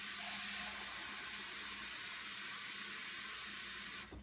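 Tap water pours in a steady, hissing stream into a pressure cooker holding spaghetti, a constant rush that stays even throughout before cutting off abruptly near the end, with no talking.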